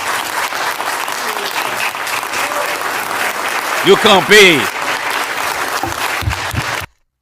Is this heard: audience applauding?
yes